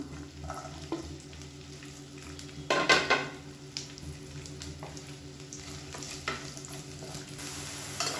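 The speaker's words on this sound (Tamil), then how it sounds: "இதை வந்து எண்ணெயில் சேர்த்து நல்லா வதக்கி எடுத்துக்கலாம்." Cut okra frying in hot oil, a steady low sizzle broken by a few close bursts of spatula stirring and scraping against the pan, with no voices.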